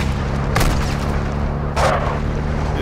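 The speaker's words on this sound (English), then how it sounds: "Los pinches bombes están dando." Two heavy blasts from bombs in Call of Duty: Modern Warfare II, a second apart, burst over a constant low battlefield rumble at moderate distance.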